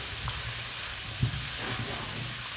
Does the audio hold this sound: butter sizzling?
yes